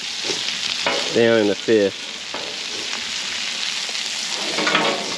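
Flounder fries in butter on a Blackstone griddle. A steady, bright sizzle continues throughout as someone speaks briefly over it.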